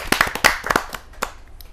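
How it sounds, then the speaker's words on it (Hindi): A handful of sharp, separate claps ring out at a Hindi kavi sammelan poetry gathering to welcome a poet, a quick uneven burst that thins to a last few claps. "एक जोरदार तालियों से स्वागत करते हैं।"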